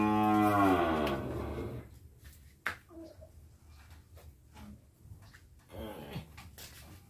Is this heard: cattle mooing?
yes